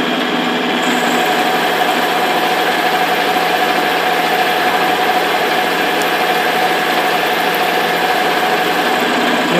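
A lathe bores an 80 mm seat in a part of a Promécam RG 25 press brake reducer with a 3 mm plunge, giving a steady, close mechanical whine and hum that runs unbroken with no talk.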